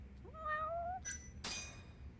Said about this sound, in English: Of course we gotta put a cat in there.